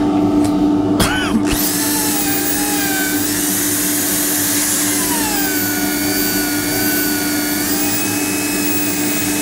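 A spinning wooden bowl on a lathe is sanded with 180 grit abrasive, producing a loud, continuous whirring roar with a steady motor tone and shifting friction hiss, after a brief knock at the start.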